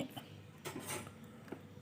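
Knife cutting boiled pork skin into small thin pieces on a cutting board for fermented pork with bamboo shoots, giving a few sharp close clicks and taps against a quiet kitchen background.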